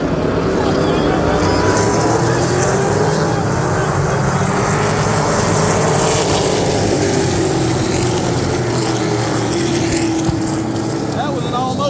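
Outlaw stock cars race around a track in a feature event that includes a Hyundai and car number 96, giving a steady, loud, dense roar of engines that swells and fades as the pack passes, with an announcer's voice faint underneath.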